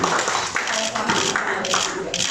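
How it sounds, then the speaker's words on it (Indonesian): Applause at the opening of a new CIMB Niaga bank branch building in Makassar, with scattered hand clapping from the audience beneath a speaking voice. "Boleh kita berikan tepuk tangan yang paling meriah."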